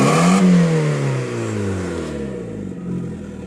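A Mk4 Jetta 2.0 engine revs up hard toward 3,800 RPM, a loud, close rising roar whose pitch climbs steadily and holds near the top for a few seconds.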